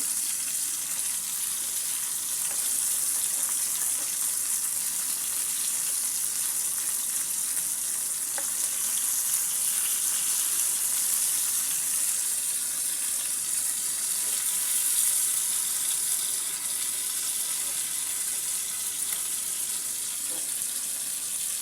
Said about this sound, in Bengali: মাছগুলোর আমি একটা সাইড ভেজে নিয়েছি। এবার আর একটা সাইডও ভেজে নেব সুন্দর করে।